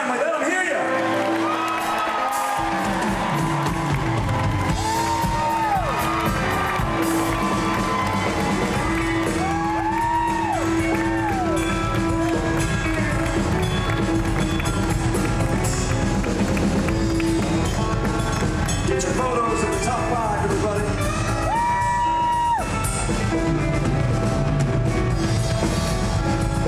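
Big live audience at an Elvis tribute artist contest applauds and cheers as five Elvis tribute artists return to the stage, steady loud crowd noise with whoops and shouts over music throughout.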